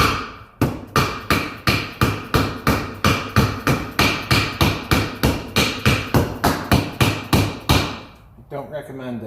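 Heavy hammer blows ring out steadily on a JLG 400S drive hub during a leaky planetary seal repair, around twenty loud, sharp metallic strikes in an even rhythm, close up, ending with a brief rattle.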